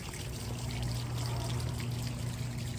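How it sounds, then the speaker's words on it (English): A water fountain splashes continuously at night outdoors, a steady close rush of falling water with no talk. "we'll be passing by the fountain so we can get another sound of that audio"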